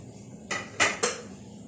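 Egg fried masala rice is stirred in a pan: three quick metallic clinks of a utensil against the pan ring out close over a quiet background.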